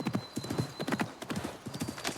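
Horse hooves clip-clop at a steady trot in a desert video game, a close, even rhythm of sharp hoof strikes running throughout, with a brief whinny-like note mixed in.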